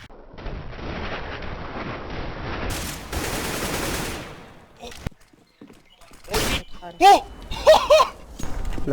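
Gunfire in the video game CS:GO: rapid bursts of automatic fire rattle for several seconds, then a few sharper isolated shots and short bursts follow amid quieter gaps.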